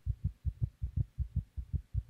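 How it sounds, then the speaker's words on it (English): A heartbeat sound effect from the video game Fractured Minds: a steady, low, thumping lub-dub pulse repeating about ten times, close and fairly quiet, with no talking over it. "Is that my heartbeat?"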